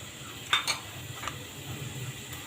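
A kilo of carrots is sautéed in a pan for gajar halwa, with a soft, low sizzle and a couple of quick spoon clinks and scrapes near the start, fairly quiet and close.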